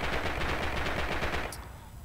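Rapid automatic gunfire rattles continuously in a multiplayer shooter match, loud and dense bursts before cutting off and leaving a quieter tail.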